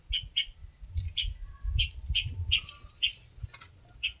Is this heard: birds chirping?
yes